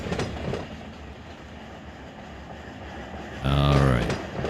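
Train brakes are applied on a locomotive in Run 8 Train Simulator III, a low rumbling rail drone that rises into a loud hiss and squeal near the end, with someone talking over it.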